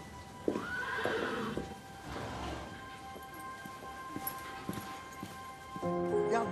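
A horse named Pégase gives a loud rising neigh, with hooves clip-clopping around it, then further snorting and hoof sounds near the end, heard close against some background noise.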